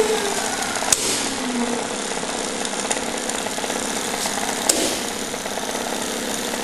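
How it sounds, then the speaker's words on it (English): A 3 HP DC motor driven through a MOSFET PWM speed controller runs at about 1300 RPM, a loud steady whine and buzz throughout with two brief sharp clicks. "Motor's running, adjusting the duty cycle."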